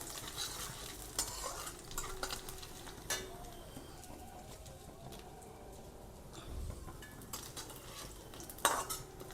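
Crushed cardamom, cinnamon and cloves hit hot oil for a Bengali egg roast, giving a faint, low sizzle broken by scraping stirs and light utensil clinks against the pan.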